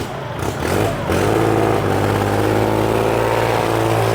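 A used farm tractor with a 3-cylinder engine and loud exhaust starts up, then settles into a steady, throbbing close-up idle with a strong low rumble.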